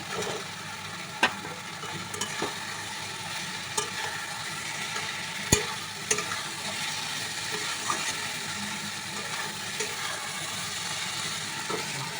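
Fried eggs go into sizzling masala in a pan for spicy Bengali egg kosha, a steady close frying hiss with occasional sharp spatters and stirring scrapes, no voices.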